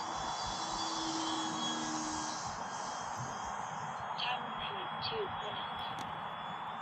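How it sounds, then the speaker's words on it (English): A radio-controlled E-Flite Cherokee plane with an APC thin electric propeller flies low, its steady buzzing drone faint and continuous at a distance, with a few brief chirps over it. "the APC thin electric propellers have a really nice sound to them"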